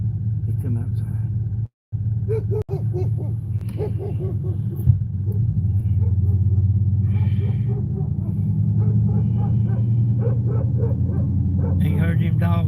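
Dogs bark repeatedly during a bulldog hunt, a run of yips and barks over a constant low outdoor rumble, with voices nearby.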